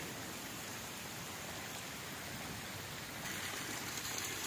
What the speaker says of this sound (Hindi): तो मेन जो चीज़ आपको दिखाना चाह रहे थे वो एक तो बारिश, ये परनाला चल रहा है जहाँ पे मैं खड़ा हूँ अभी